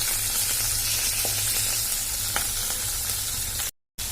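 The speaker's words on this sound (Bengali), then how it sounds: "মাছগুলো আমার ভাজা হয়ে গেছে" Steady, dense sizzling of pabda fish frying in hot oil, close and continuous with faint crackles, cut by a brief silent gap near the end.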